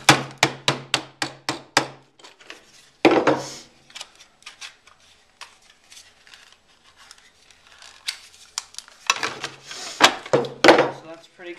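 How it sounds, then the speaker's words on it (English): A hammer strikes metal knife blades on a skinning knife, sharp rhythmic taps in quick bursts, close and loud, separated by quieter stretches of handling noise. "let me grab a hammer"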